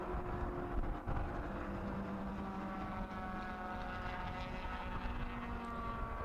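Race cars, including a Mini Cooper and a Renault Clio, run at Silverstone, heard as a steady dense engine roar from the pack. It is continuous and moderately distant, with no talk over it.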